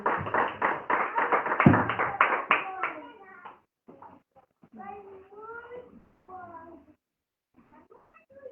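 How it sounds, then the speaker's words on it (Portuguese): A church congregation at an Apostolic worship service claps to welcome the preacher, with a few seconds of quick, rhythmic handclaps mixed with voices. The clapping stops and scattered speech and vocal sounds follow. "a igreja recebe o servo do Senhor com palmas bem alegres"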